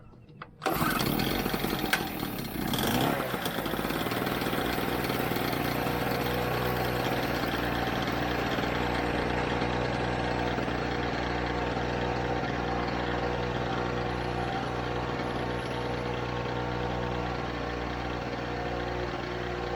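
A ten-year-old Harbor Freight 800W portable generator that had not run since purchase fires up after a brief start and settles into a steady, droning idle close by, with no voices.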